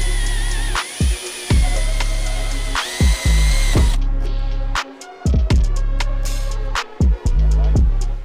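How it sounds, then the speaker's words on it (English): Power drill boring rivet holes through a plate over a car hood, bursts of loud close whirring that start and stop repeatedly with short pauses between runs. "All the holes are drilled here for the rivets."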